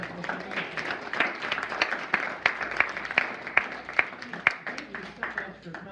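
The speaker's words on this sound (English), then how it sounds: "But let's give them another round of applause." An audience at a Gulf Breeze beekeeping association meeting claps steadily for several seconds, a dense patter of hands with a few sharper claps standing out near the end.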